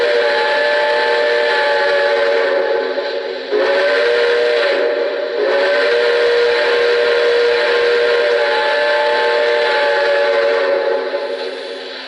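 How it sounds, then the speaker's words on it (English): A steam-style whistle from a Lionel Commodore Vanderbilt toy train blows loud and steady, with a brief dip partway through, then carries on as a sustained harmonic tone. "I love the whistle on this thing."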